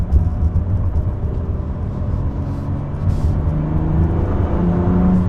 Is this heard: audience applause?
no